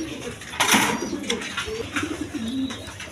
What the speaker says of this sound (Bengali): বন্ধুগণ, এখানে এক পেয়ার মসলদম কবুতর আছে